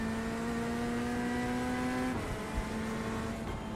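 Engine of a GT3 race car in a racing video game, a loud sustained high-revving tone that drops sharply on an upshift partway through and then carries on at a steadier pitch, with no talking.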